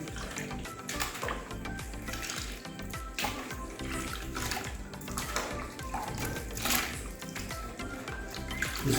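A 5x5 human hair closure is dipped into a basin of shampoo water, giving continuous moderate sloshing and splashing with soft watery churning throughout, no speech.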